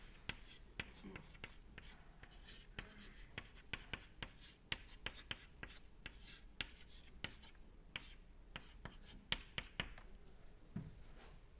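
Chalk or pen writing during a university fluid mechanics lecture on Stokes flow past a sphere: steady, close scratching strokes and sharp taps continue throughout, with faint background murmur.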